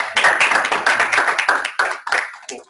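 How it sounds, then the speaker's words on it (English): A small audience at a conference session claps for a panel of three speakers. Crisp, close individual claps come in a quick uneven patter that thins out and fades toward the end. "Can we give a round of applause to Jacob,"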